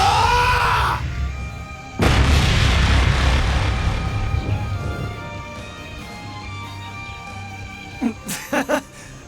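Ungula Barrage attack in a video game: a sudden heavy explosive boom followed by a long rumbling decay, then a quick cluster of sharp bursts near the end.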